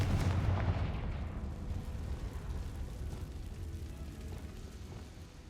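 Confringo blasting spell explosions in the Hogwarts Legacy video game: a deep, rumbling boom up front that slowly decays into a low, sustained roar with no talk over it.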